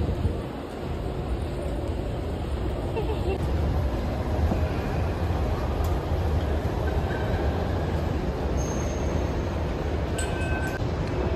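A metro train pulls into a station with a loud, close, continuous rumble, wheel clatter and brief high squeals. Faint voices blend into the background noise.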